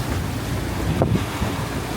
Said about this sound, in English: the sea state is tremendous